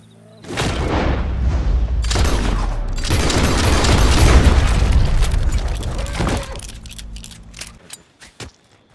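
Gunfire in the video game Red Dead Redemption 2, a dense, loud burst of booming shots and rumbling blasts lasting several seconds before tapering into scattered smaller hits.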